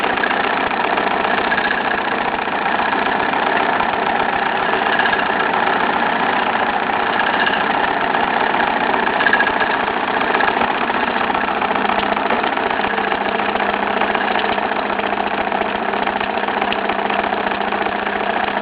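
Bowman M122 model steam engine running under steam, a dense, continuous mechanical whir and hiss that stays even and loud throughout, with no clear beats and no voices.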